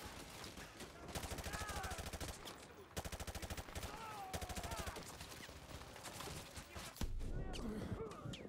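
Automatic enemy gunfire in Modern Warfare 2 Remastered plays quietly as steady, fast rattling bursts with short gaps, while a voice talks over parts of it.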